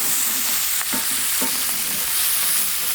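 Bacon and onions fry in a pan over direct heat, giving a loud, steady close-up sizzle with a few brief scraping stirs.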